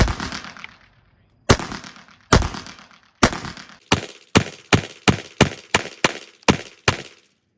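A Beretta 80x pistol fires jacketed hollow point and then ball ammunition: a few slow, spaced shots, then a quicker string of about nine sharp, loud reports, each ringing out briefly before the next.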